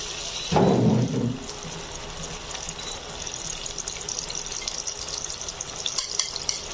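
Marinated meat dropped into hot oil in a pan gives a loud burst of sizzling at first, then settles into a quieter, steady frying hiss with small crackles, with no voices.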